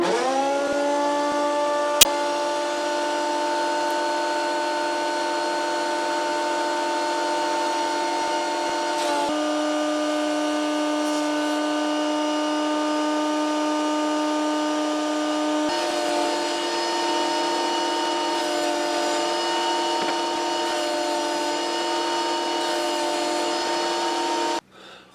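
A Scheppach HSM 1080 planer thicknesser runs steadily while planing wood, a loud continuous tonal machine whine with a brief click early on and a slight pitch shift midway, cutting off abruptly at the end.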